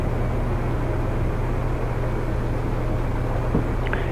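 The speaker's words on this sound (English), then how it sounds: "Y'all think I should turn down the drone sound?" A steady, dense drone hums continuously in the background of a livestream, a broad even noise with a low tonal hum underneath and no breaks.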